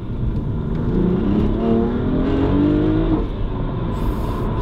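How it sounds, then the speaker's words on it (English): Twin-turbo engine of an F80 BMW M3 with 530 bhp accelerating hard, traction control off, a loud rising growl with climbing pitch that holds strong for several seconds from inside the car. "that initial bit of the turbo, it's aggressive, isn't it?"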